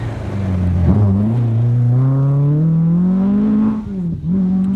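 A Ford-engined Toyota rally car at a 1992 rally, its engine droning loud and close under strain, pitch climbing steadily through a long labored pull, dipping briefly, then holding a rough, struggling note near its end.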